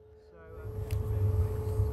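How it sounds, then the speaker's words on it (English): A Formula E electric race car with its motor on gives a mild, steady whir, a low hum with a thin tonal line that swells gradually over two seconds at close range. "this noise that you may be able to hear, this is classed as the engine on. It's just like a sort of mild whir, really."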